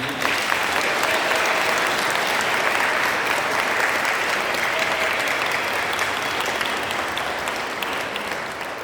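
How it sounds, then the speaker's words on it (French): A church congregation gives a sustained round of loud, dense clapping for newly baptised adults at Easter Sunday Mass, steady throughout and gently fading at the close. "Alors on peut les acclamer."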